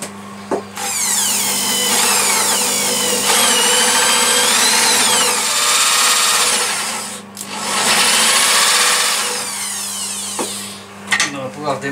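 A Forstner bit bores a hole in walnut, the piece held on a lathe for a lamp, with a loud, continuous whining drill that changes pitch as it bites, pauses briefly and resumes before stopping.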